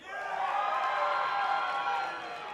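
Live esports crowd at a Las Vegas IPL4 match between TSM and v8 cheering loudly, a sustained roar of shouts and whoops that swells then slowly fades over a few seconds.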